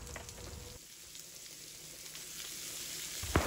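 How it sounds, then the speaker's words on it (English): Steady, close sizzling of cut-up hot dogs frying in hog fat, a soft crackling hiss that holds throughout with a sharper spatter near the end. "Drop them cut up hot dogs in that hog fat and get a little color on them."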